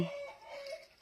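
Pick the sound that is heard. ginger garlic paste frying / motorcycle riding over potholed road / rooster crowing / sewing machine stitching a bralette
rooster crowing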